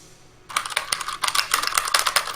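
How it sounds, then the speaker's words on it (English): Rapid clattering keystrokes on a computer keyboard start after a quiet half-second, then keep going as dense, uneven bursts of typing, close and fairly loud, with no voices. "Don't be getting crazy with that keyboard."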